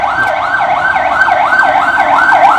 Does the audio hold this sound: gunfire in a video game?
no